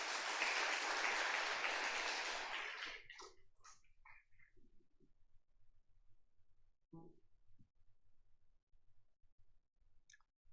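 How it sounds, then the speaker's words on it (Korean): Congregation applauding in a Korean church Sunday service as a deacon comes forward, a burst of clapping for about three seconds that quickly dies away, followed by quiet room sounds and a few scattered clicks. "우리 집사님 나올 때 박수로 맞이하도록 합시다"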